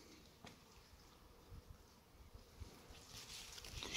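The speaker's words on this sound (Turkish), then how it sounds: "Bu taraftan da arılar nektar için konmuş üzerlerine." Bees buzz faintly around purple Rhododendron ponticum blossoms outdoors, a soft, low insect drone that rises and falls over a light wind background, with no talking.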